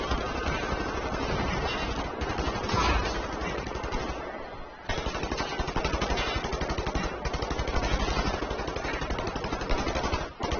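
Sustained machine-gun fire in a shooter game against Nazi enemies, a dense unbroken rattle running almost continuously with one brief pause midway, loud and close, with no talk.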